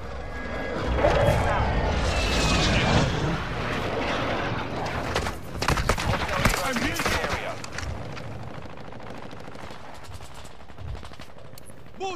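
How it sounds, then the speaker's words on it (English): Explosive gunfire and blasts from a precision airstrike in Call of Duty Warzone, a loud burst of rapid fire and booms in the first seconds followed by scattered impacts and rumbling, with game voice chatter over it. "Friendly precision airstrike inbound."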